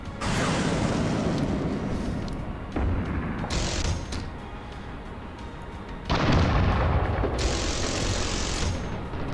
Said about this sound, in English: I want to see what damage can I do with this, with these freaking air-to-air missiles